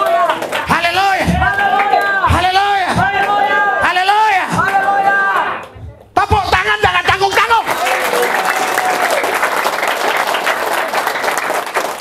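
A church congregation at an outdoor revival service in Taman Kencana, West Jakarta, first shouting together in loud voices, then breaking into a burst of dense crowd applause mixed with cheering and babble.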